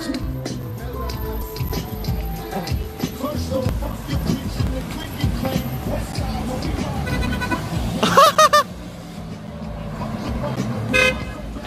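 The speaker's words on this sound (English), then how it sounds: "everyone's honking" Several car horns honk in street traffic during a Gay Pride Week celebration, short toots near and far, with a burst around the middle and another near the end, under steady traffic noise and people talking and laughing.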